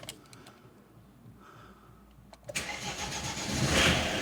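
An Opel Frontera diesel engine cranks and catches after parts replacement, a few faint clicks giving way to a loud starter burst and then a rising, rough idle close by.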